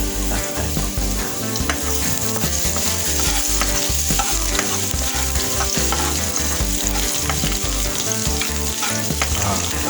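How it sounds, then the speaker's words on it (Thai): Chopped garlic fries steadily in hot oil, a loud continuous sizzle with frequent crackles and the clatter of stirring, no voices present. "ก็เจียวจนกระเทียมหอมนะครับ เอาให้หอมไปเลย"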